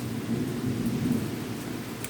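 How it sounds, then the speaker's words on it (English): Thunder rumbles low and continuous during a rainstorm, a rolling, muffled roar over steady rain hiss, moderately loud and unaccompanied by speech. "Thunder again."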